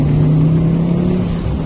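A Fiat Coupe 20VT engine, warmed up after sitting in a garage for months, holds a loud, steady low rumble at close range with a slight surge, then eases off slightly, with no talking.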